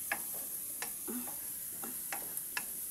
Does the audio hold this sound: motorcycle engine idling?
no